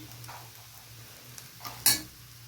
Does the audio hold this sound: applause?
no